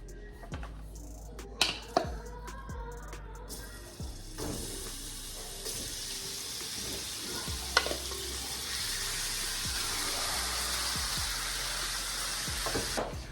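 Birria meat browning in a skillet on the stove, sizzling and frying steadily and close, with a few sharp clatters and pan knocks early on before the sizzle builds into a dense, constant hiss.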